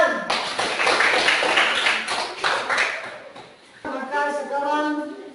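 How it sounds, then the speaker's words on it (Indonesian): Brief applause from a classroom group at the end of a presentation, several people clapping fairly close for about three seconds, then fading as a voice begins speaking. "Tepuk tangan."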